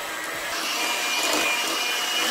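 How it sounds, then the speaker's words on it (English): An electric mixer creams chocolate chip cookie dough with a steady loud whirring drone that holds at one level throughout, close up, with no talking. "Mix it until it's nice and creamy, so turn your speed up."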